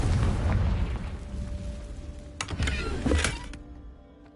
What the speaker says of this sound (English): I'll just blow the boxes into smithereens.